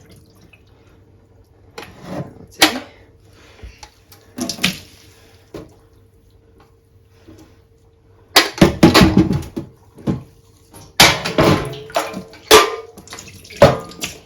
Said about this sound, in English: I'm going to very carefully just drain out the water, pour out the water.